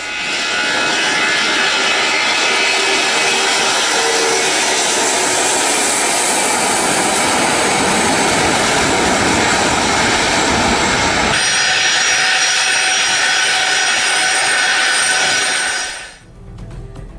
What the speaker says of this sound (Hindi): रूस ने अपना बेहद सुरक्षित डूम्सडे प्लेन तेहरान भेजा है